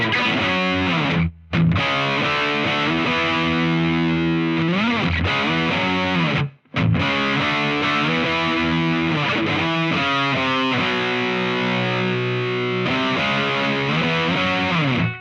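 An electric guitar plays a part through an amp with a compressor and Strymon Flint reverb. The tone is loud, saturated and sustained, with sliding bends and two short breaks between phrases.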